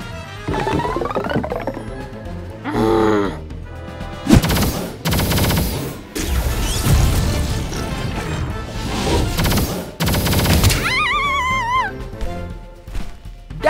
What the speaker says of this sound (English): t Rex is getting fired continuously